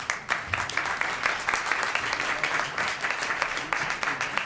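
An audience at an economics forum on growth and productivity in Chile applauds after a talk, with loud, dense clapping and distinct sharp claps sustained throughout.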